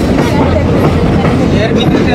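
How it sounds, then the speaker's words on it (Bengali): Crowded passenger train in motion, a continuous loud broadband rumble and rattle of the carriage swaying along the track, with a busy noisy interior throughout. "ট্রেন যে জোরে হেলে দুলে চলছে।"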